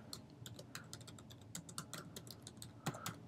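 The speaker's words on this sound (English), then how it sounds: "I will type a note for Richard," Rapid keystrokes on a computer keyboard while a note is typed into music binder software, a steady run of light, close clicks with a slightly louder tap near the end.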